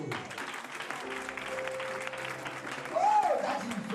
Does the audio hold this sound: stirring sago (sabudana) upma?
no